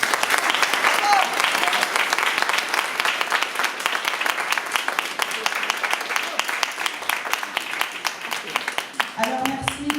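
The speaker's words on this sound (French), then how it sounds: "je pense tout de même que nous pouvons largement l'applaudir" Audience applause at an outdoor municipal tree-planting ceremony in Le Coudray-Montceaux, a steady dense clapping from a crowd lasting throughout, loud and close, with a brief voice near the end.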